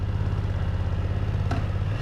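A 2020 BMW F900XR motorcycle engine idles close by with a steady, throbbing low-pitched rumble and a brief click partway through.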